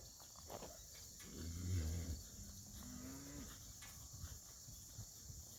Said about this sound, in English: we're bringing the cattle down a road here